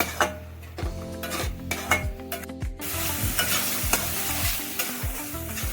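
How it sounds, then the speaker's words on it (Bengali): Spice paste with turmeric, coriander, cumin powder and salt fries in oil for a gram flour and potato curry, with a steady sizzle and repeated spoon scrapes and clinks against the pan, no voices. "জিরে গুঁড়ো আর নুন দিয়ে এটাকে আমি আবার ভালো করে একদম তেল ছাড়া পর্যন্ত কষিয়ে নেবো"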